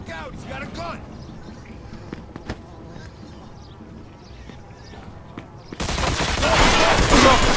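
Shootout in Mafia 2 Definitive Edition, with sporadic scattered pops and clacks under background talk and ambience, then a sudden loud, dense burst of gunfire erupting near the end and continuing to the close.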